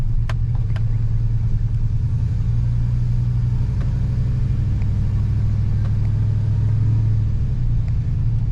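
Chevrolet Sierra or Silverado pickup with a swapped-in 4L80e transmission driving on a road, heard as a loud, steady low engine drone and road rumble from inside the cab, with no talk.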